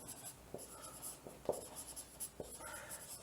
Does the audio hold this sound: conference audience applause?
no